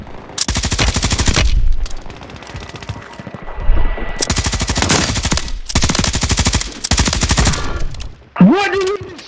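A Bruen MK9 rifle fires in long, rapid automatic bursts in Warzone 3. Several sustained volleys are loud and close, with short gaps between them, ending in a whooshing tone.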